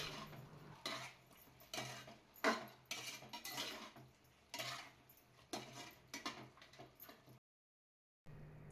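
Country chicken being mixed with coriander powder and chili powder for a village-style curry, heard as repeated clinks and scrapes of a spoon against a metal vessel, close and fairly quiet with a short silent gap.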